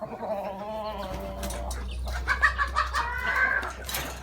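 Chickens, including a gamecock rooster, cluck close by in short repeated bursts, with a low steady hum underneath and no talking.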